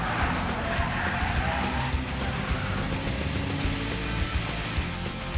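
A race car spinning out during a track race: a loud, continuous, smeared roar of squealing, skidding tires mixed with engine noise that holds steady for the whole stretch.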